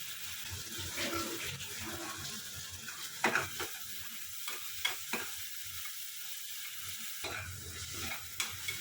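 A ginger-garlic spice paste with green chilies fries in a pan for a simple kurma, a moist sizzle broken by repeated scraping stirs and clacks of the utensil, close by with no talking.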